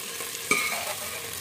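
Cauliflower frying and being stirred in a pan: a faint sizzle with one brief spoon scrape near the middle, close by, with no voices.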